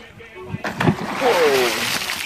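Dolphins in the Gulf of Mexico alongside a boat make popping sounds and a rising whistle-like squeal near the hull, with water sloshing and a voice speaking close by.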